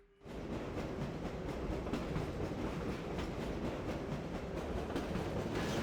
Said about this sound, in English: A new kind of train.